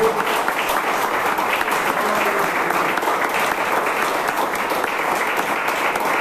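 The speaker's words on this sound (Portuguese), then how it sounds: "se você puder aplaudir bem forte o nome dEle, o nome do Senhor." Sustained, dense applause from a large church congregation, loud and steady throughout, with no break in the clapping.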